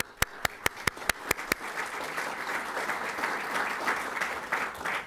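Applause from an audience at the launch of the Metro21 Smart Cities Institute, opening with a few sharp, separate claps that quickly swell into dense, steady clapping that carries on evenly to the end.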